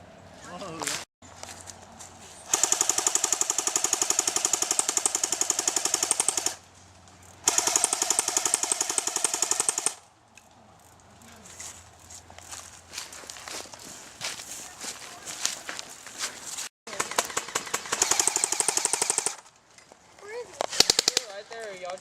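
Bursts of rapid airsoft gunfire crackle during an outdoor airsoft game, with long dense volleys of shots broken by pauses, footsteps and players talking.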